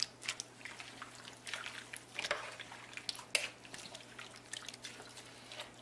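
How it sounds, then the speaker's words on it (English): A spoon stirs vegetable beef soup in a slow cooker, giving soft wet sloshing and squishing with faint scrapes, close and low in level, over a steady background hum. "Give it a quick stir."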